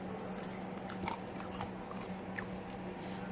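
Crunchy end of a piece of homemade unleavened bread bitten and chewed close up, with several crisp crunches over a steady background hiss.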